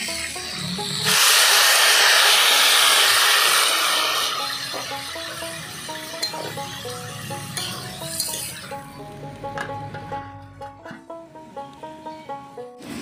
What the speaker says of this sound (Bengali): এবার একটু সামান্য জল দেবো, জল দিয়ে একটু ভাজা দেবো।